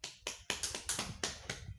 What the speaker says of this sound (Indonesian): Oke, tepuk tangan untuk buat intervensi.